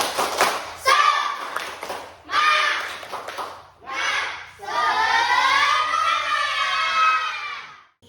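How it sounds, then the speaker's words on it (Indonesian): A class of children performs the rhythmic tepuk semangat clap in bursts of patterned claps, then breaks into a long stretch of louder group clapping and voices. "mari kita bersama-sama tepuk semangat ya. Tepuk semangat."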